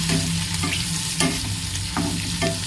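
Mushrooms frying in a pan, a dense close sizzle broken by a few rhythmic scraping stirs of a spoon, loud and steady with no voices.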